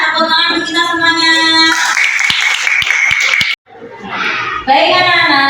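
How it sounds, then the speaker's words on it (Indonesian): During a lesson, children clap their hands in a short burst of sharp, scattered claps. Their high voices and chatter can be heard before and after. "tepuk tangan untuk kita semuanya"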